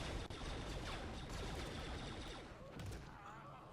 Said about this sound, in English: Just walk out in front of the hail of gunfire